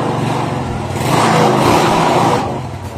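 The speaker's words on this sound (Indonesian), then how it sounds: "Coba kita hidupkan, apakah motor mau hidup?" A small motor scooter, just refitted with its fuse and regulator wiring, is cranked on the electric starter. The engine catches and revs loudly for about a second, then eases back to a steady idle.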